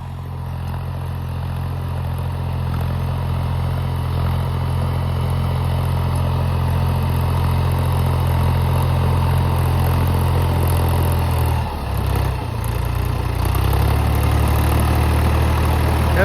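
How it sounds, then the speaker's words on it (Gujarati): A tractor fitted with two hydraulic pumps idles on a farm with a steady, deep, throbbing engine rumble, close and continuous, with a brief dip and shift in pitch partway through. "આવું ટ્રેક્ટર હે આપણે"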